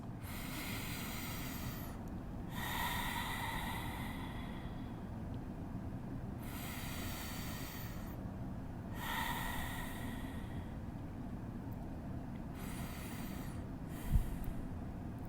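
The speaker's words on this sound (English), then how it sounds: "take 3 deep breaths" Three slow, deep breaths drawn in and let out close to the microphone, each a broad airy rush with quiet gaps between, over a steady low background hum.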